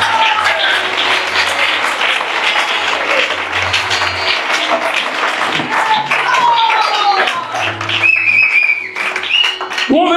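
An audience at a gathering acclaiming Jesus bursts into dense, continuous applause and cheering, loud and close throughout, with voices mixed into the clapping.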